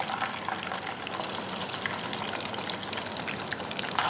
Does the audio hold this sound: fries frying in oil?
yes